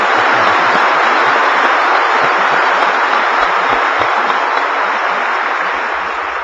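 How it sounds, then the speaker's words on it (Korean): A church congregation applauds during a sermon, a dense, loud and steady wash of many hands clapping together that holds for several seconds and tapers slightly at the end. "하나님께 박수 한번 합시다."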